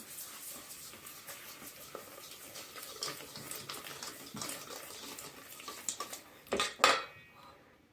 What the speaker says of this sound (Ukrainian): цукор ванільний 40 грам, стакан сахару і все це перемішуємо.